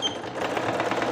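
A sewing machine runs steadily while stitching a peplum top with a yoke and flared skirt, a fast, even mechanical whir close up, brief and continuous without voices.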